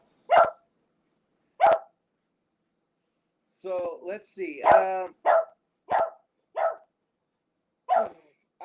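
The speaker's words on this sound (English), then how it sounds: "I got a puppy saying, woof, woof, woof, woof, woof, woof." Small puppy barking in short, sharp yips spaced several seconds apart, close and fairly loud, with a person talking in the middle stretch between barks.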